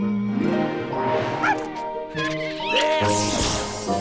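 Cartoon dog giving several short yipping barks amid crashes and whimpers, mixed with animated character voices and music in a busy, close sequence.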